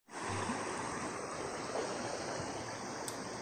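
Water rushing steadily through a canal channel fed by forest runoff at Thirumoorthy Malai, a continuous broadband flowing hiss heard alone at moderate distance.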